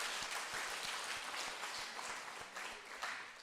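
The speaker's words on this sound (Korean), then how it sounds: "우리 서로 잘 하셨다고 격려 박수 한번 해주시기 바랍니다" Congregation applauding at a church Thanksgiving praise service: a soft, continuous patter of many hands clapping, steady throughout and fairly distant.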